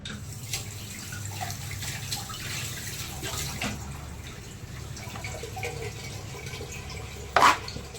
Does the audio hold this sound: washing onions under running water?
yes